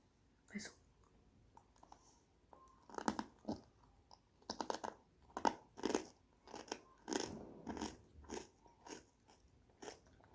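Mumukttuk potato chips crunch repeatedly and loudly up close as they are bitten and chewed, with quiet whispered talk between bites.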